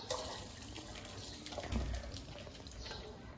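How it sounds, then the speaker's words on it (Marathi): Water pours and splashes steadily as it is drained from cooked rice through a strainer into a sink, with a heavier gush midway. "आता छान त्याच्यातलं पाणी काढून घेऊ"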